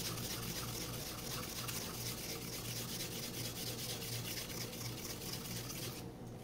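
Wet sandpaper rubbing steadily over the top surface of an MGN12 steel linear rail, a continuous close, loud gritty scrubbing with a faint watery edge and a rhythmic back-and-forth texture throughout.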